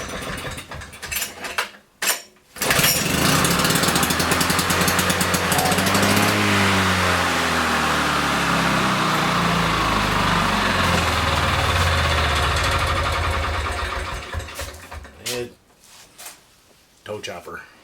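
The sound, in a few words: lawn mower engine running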